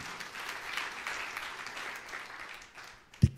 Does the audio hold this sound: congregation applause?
yes